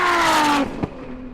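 A 1000-horsepower Nissan GT-R drag races a Ferrari SF90, one loud engine roar close up with a falling pitch as it shifts, then a short thump and a quieter engine drone.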